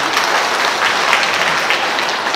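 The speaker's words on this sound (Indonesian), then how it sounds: "Tepuk tangan buat kita semua." An audience at a church liturgy gathering claps loudly and densely throughout, a continuous wash of applause with no gaps.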